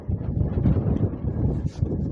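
Gusting wind buffets a microphone outdoors beside a lake with a flooded footbridge, a continuous low rumbling roar that swells and dips throughout.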